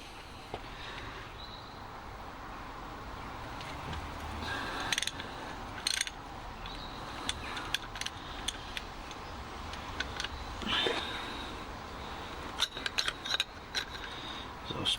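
A ratchet loosens a bolt on the M9R diesel injector of a Renault Trafic, giving bursts of rapid metallic clicking with pauses between strokes, close up over faint workshop background and no talk.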